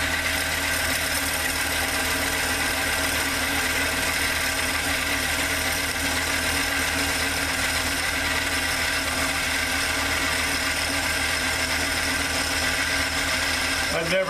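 A small metal lathe takes a cutting pass on an aluminum spool adaptor for a MIG welder, a steady, loud motor-and-cutting whine that runs unbroken and alone, with no voices.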